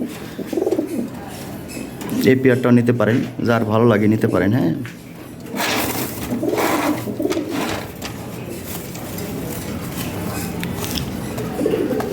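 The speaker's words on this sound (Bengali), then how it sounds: "এখানে এক রেড লাহরি আছে হ্যাঁ এই জোড়াটা নিতে পারেন" A pair of red Lahori pigeons coo softly in repeated throaty bursts while someone talks nearby.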